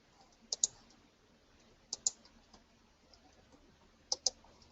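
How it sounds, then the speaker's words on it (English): Computer mouse clicks while working in design software on a paper lily template, heard as three close pairs of quiet, sharp clicks spaced across a near-silent background. "Left click, right click, break node."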